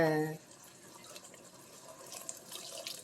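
Water is poured into a mixer jar to rinse it during home cooking, a faint, continuous splashing trickle after a brief voice at the start.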